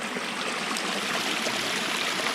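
Clear water flowing in a stream at Prescott Falls, a close, steady babbling rush with no voices.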